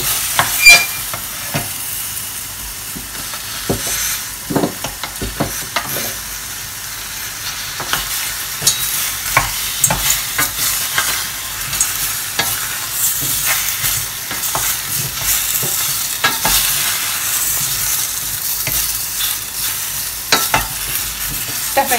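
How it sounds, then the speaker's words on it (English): Vegetables frying in oil in a pan while being stirred and tossed, cooking before hot stock goes in for tomato and basil soup; a loud, steady sizzle runs throughout, broken by frequent scraping and clattering stirs, with no talking. "stir my vegetables, toss them around in the oil, get them cooking"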